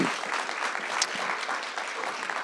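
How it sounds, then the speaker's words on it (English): Applause from a university spring convocation audience, a steady wash of many hands clapping at moderate distance, brief and even with no distinct voices. "Give him a big round of applause."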